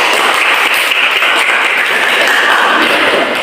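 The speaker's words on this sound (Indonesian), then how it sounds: "Boleh kasih tepuk tangan dulu." A class of students claps together in a classroom, a loud, dense and continuous patter of many hands that holds steady for a few seconds.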